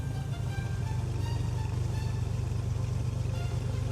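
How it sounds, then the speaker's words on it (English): Aircraft engine in the Prepar3D V4 flight simulator, a steady low droning hum with a constant rumble that holds evenly throughout, with no voices. "Can you actually hear the engine, guys?"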